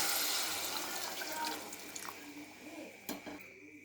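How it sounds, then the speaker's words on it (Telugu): Water runs and splashes steadily into a cooking pot for country chicken curry, with a brief louder gush near the end and faint clatter in the background. "చూడండి వాటర్ వేస్తున్నాను."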